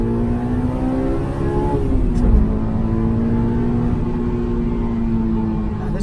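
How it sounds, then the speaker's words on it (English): A track-ready Honda S2000 AP1 engine running at high rpm while driving, a close, loud, steady drone with a brief dip in pitch midway before it climbs and holds again. No talking. "This car revs so high."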